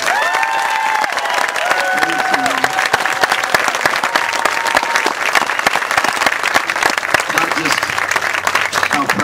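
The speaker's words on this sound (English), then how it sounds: "Can I have one big round of applause for all these kids?" Loud audience applause for children at a 2013 Rose Parade celebration fills the space, dense clapping with a few cheers and faint voices mixed into the crowd.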